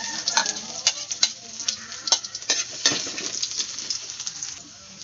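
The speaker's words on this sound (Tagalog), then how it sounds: "Mainit na po yung mantika, ilagay ko na po itong luya." Ginger pieces drop into hot oil tinted with annatto and fry with a lively, crackling sizzle, with quick spatters and stirring taps against the pan, close up and without talk.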